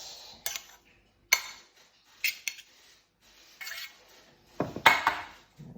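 Dishes and cutlery clink and clatter in scattered bursts as soy and honey pork belly is plated with rice and steamed green veg, close and fairly quiet, with short gaps between the knocks.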